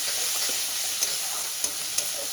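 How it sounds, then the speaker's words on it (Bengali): Onion paste sautéing in a pan for Kashmiri dum aloo gives a steady close sizzle, with a few sharp spoon scrapes punctuating the hiss and no voices. "দিয়ে আমি ভালো করে কষাতে থাকবো পেঁয়াজের কাঁচা গন্ধটা চলে যাবে"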